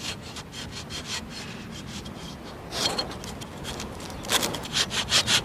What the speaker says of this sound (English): So I started sawing as hard and as fast as I could.